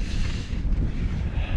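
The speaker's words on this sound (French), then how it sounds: "C'est que il y a un petit vent, monsieur." Light wind on an outing near Mont Sainte-Odile, a steady broadband rush and buffeting that rumbles continuously across the microphone, fairly loud, with no voices.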